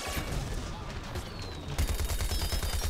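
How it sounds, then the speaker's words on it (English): Rapid-fire Blink Gatling shots from a shrimp mech in Plants vs Zombies Garden Warfare 2, a dense rattling barrage throughout that grows heavier and more thumping in the last second. "it's time for the Bling Gatling"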